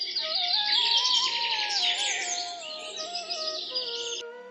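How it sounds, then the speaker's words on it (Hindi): Birds chirp and sing continuously in a jungle at morning after rain, several overlapping bright, warbling calls close and fairly loud with a faint steady background hum. "पक्षियों की चहचहाहट फिर से जंगल में सुनाई देने लगी थी"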